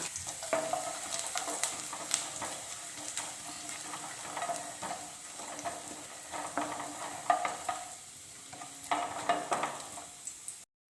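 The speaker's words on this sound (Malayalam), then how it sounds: "ഒരു ടീസ്പൂൺ ഇഞ്ചി ചെറുതായിട്ട് അരിഞ്ഞത് ചേർത്ത് കൊടുത്ത് ഒന്ന് മൂപ്പിച്ചെടുക്കണം" Chopped ginger and cumin frying in hot oil, a steady close sizzle broken by the scrape and clack of a spoon stirring the pan, with no voices.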